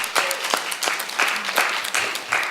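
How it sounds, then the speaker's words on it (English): A round of applause from an audience at a student organizing event on social change, a steady wash of clapping with rising and falling bursts, fairly loud and close throughout. "go ahead and give up a round of applause for those running for air"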